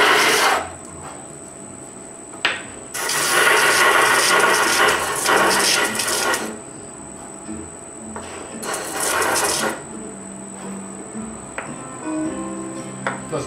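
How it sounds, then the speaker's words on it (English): Machined wooden ukulele parts are lightly hand-sanded to remove leftover tabs, giving bursts of close, scratchy rubbing separated by quieter pauses. "And just lightly sand them away."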